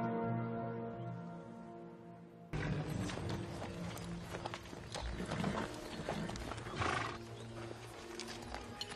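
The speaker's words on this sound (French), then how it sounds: "Il y a un cheval à la grille des communs." A horse at the gate of a manor's outbuildings gives a loud whinny, followed by clip-clopping hooves and movement over a busy background.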